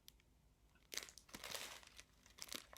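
A Prima paper pad is handled, its paper sheets crinkling and rustling in a couple of close, quiet bursts with short pauses between them.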